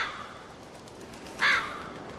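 A crow caws once, sharp and fairly close, in The Walking Dead game over a quiet background hum.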